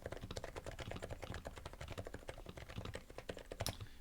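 Keys clatter steadily on a self-built Snipe mechanical keyboard, a quick, continuous run of close, fairly soft clicks with no voices.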